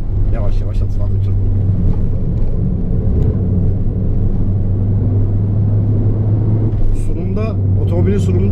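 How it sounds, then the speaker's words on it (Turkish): Peugeot GTI hatchback on a slow cool-down lap, a steady low engine drone and road rumble heard from inside, with someone talking over it and some wind buffeting toward the end. "Yani otomobili soğutmak için yavaş yavaş atılacak bir tur."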